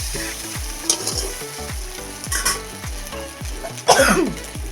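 A semolina snack fries in a pan while a spatula stirs it in slow, repeated scrapes over a sizzle; a cough-like burst sounds near the end.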